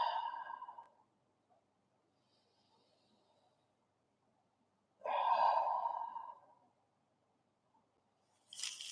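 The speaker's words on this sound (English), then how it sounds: "I think the most important detail in any stretching is just to breathe, proper breathing." Deep breathing during a kung fu stretching routine: a long nasal inhale, a quiet pause, then a fuller exhale, with another breath starting at the end. Close and soft, no talking.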